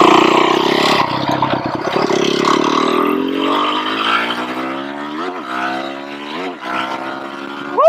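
A Yamaha YZ450F supermoto motorcycle on a test ride, its engine loud and close as it revs through rising and falling pitch sweeps with steady wind rush, then a sharp throttle blip at the end.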